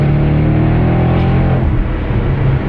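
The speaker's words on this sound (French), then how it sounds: "Tu vois, la sonorité de cet échappement, malgré tout, c'est ce qui fait vraiment la différence" An Audi RS6 exhaust roars loud and close as the engine is revved, a dense continuous growl holding steady for a few seconds with no voices over it.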